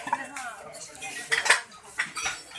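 Ceramic plates at a kilo-priced china sale festival in Alexandria clink and clatter as they are handled, with a run of bright, close chinks and scrapes of crockery.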